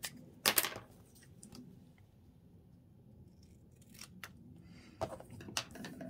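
Scissors snip ribbon for a Christmas bow in a quiet room, with a few sharp, close cuts scattered across the stretch and long gaps of near silence between them.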